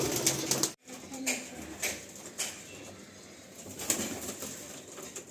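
Young Madrasi pigeons scurry and flutter inside a loft, with brief bursts of wing flaps and soft shuffling over a steady background rustle, plus a few faint coos.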